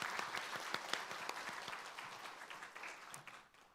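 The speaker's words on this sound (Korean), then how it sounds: "우리 목사님 앞으로 사역하시는 모든 일 가운데 큰 은혜가 있을 수 있도록 기억하시고 또 응원하는 그런 마음으로 우리 박수로 하도록 하겠습니다" A church congregation applauds together during a Sunday morning service, a steady wash of many hands clapping that holds fairly even before thinning and fading out toward the end.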